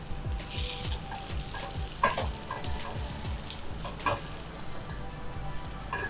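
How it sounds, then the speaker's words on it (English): Chopped garlic and sliced onions sizzle in a pan for a mixed vegetable jalfrezi, a dense, steady frying hiss with soft stirring scrapes and a couple of louder knocks. "sizzle away, Amar. That's chopped garlic going in there. And just as we put the chopped garlic in, we'll add now some sliced onions."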